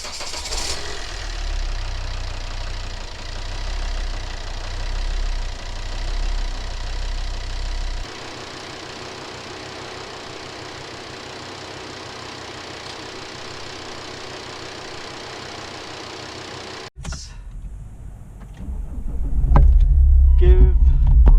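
A Volvo XC70 engine after a power steering pump replacement, with a steady mechanical hum that cuts out sharply, then restarts into a loud, rough idle close by, with some talk over it.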